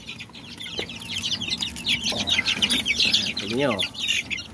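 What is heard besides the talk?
backyard chicks peeping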